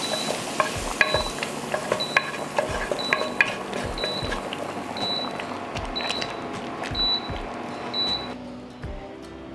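Roux is poured into a pot of bean stew and stirred, with repeated scraping clinks of a spoon against the pot and a steady simmering hiss, close and without talk.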